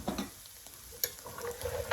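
Flour cooks in meat fat in a pan, a quiet gentle sizzle under soft scraping as it is stirred around, with a brief clink of utensil against the pan midway.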